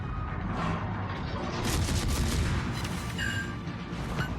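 Naval guns firing from a warship in a naval combat video game, heavy booming blasts rolling over a dense, continuous battle din, loud and close with no talking.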